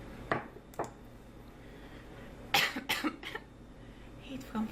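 A man deliberately coughs in a high, feminine-sounding way, a few short close coughs and throat noises spread out over a quiet room, with faint breathy sounds between them.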